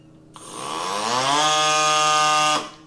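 A CYCPLUS AS2 Pro electronic tire inflation pump starts up and runs with a loud, steady, high-pitched motor whine that rises in pitch briefly, then cuts off abruptly after about two seconds.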